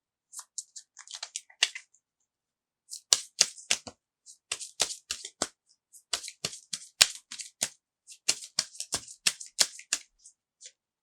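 A tarot deck is shuffled and cards are pulled, making bursts of crisp flicking, riffling and slapping card sounds in uneven clusters with short silent gaps, close and sharp, with no talking.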